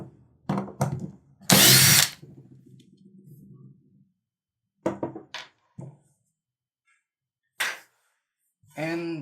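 A Makita HP331DWYE cordless hammer driver drill drives a black screw into wood in short, loud whirring bursts separated by pauses, with a person talking between bursts.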